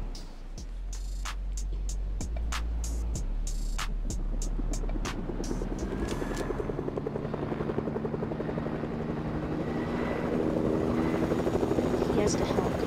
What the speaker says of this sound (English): He has the helicopter.